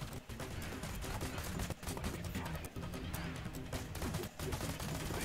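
Video game battle gunfire at an observatory under attack: continuous rapid volleys of shots crackle densely throughout, loud and close, with brief gaps between bursts.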